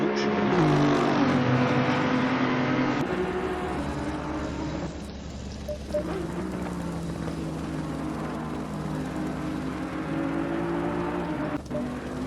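GT3 race cars lapping Monza in a racing video game, engines whining and revving loudly, shifting pitch as they pass, with a sudden change in engine tone partway through and no talk.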